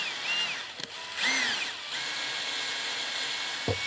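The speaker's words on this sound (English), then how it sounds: "Reverse the drill." A power drill running in reverse to back a rivet nut installation tool out of a van body during a build, a steady close whine with brief pitch swoops and a short click near the end.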